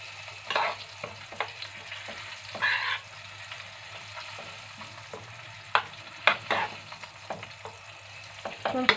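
A spoon scrapes and stirs Moroccan zaalouk, a cooked eggplant and tomato dish, in a pot, with repeated clattering strokes over a steady low sizzle. No one speaks.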